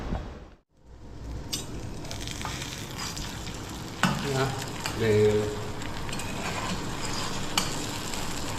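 An egg frying in a pan, a continuous close sizzle and crackle with occasional scraping and stirring knocks, after a brief silence at the start.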